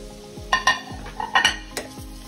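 Chopped onion and green chilies fry in hot oil, with a low sizzle under several bright metallic clinks and pings as a utensil strikes the pan in quick bursts.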